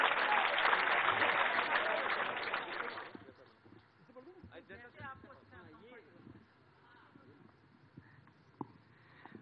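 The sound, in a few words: audience applauding at a poetry gathering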